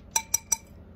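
Three quick, light taps on a plant pot settle the potting soil during repotting of an elephant ear plant. The taps are evenly spaced, close and fairly faint, with no talk.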